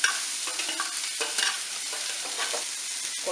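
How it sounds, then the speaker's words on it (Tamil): Onions sauté in a kadai for onion chutney, a bright continuous sizzle with the scrape and shuffle of a spatula stirring them close by, no speech. "இப்போ நம்ம அதே கடாயில் வெங்காயத்தை போட்டு நல்லா வதக்கிடலாம்."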